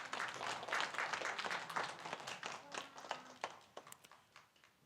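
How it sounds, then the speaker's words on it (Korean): A church congregation claps in scattered, uneven bursts, individual hand claps standing out as the quiet, distant applause thins and fades toward the end. "우리 소희에게도 박수할까요?"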